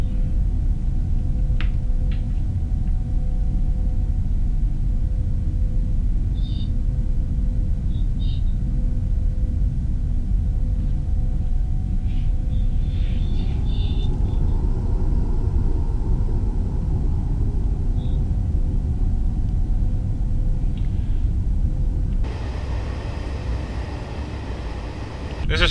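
A Bombardier Traxx 186 locomotive rumbles steadily in Train Sim World, a dense low drone holding for the whole stretch with faint high clicks and tones over it, and a brighter rush of noise near the end.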